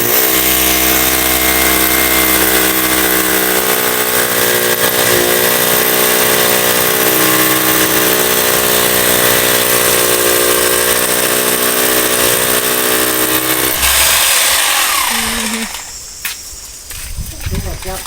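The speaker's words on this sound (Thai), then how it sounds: "กำลังเจาะ" A power drill runs close and loud with a steady, droning motor whine that holds for about fourteen seconds, then cuts off and leaves quieter background noise.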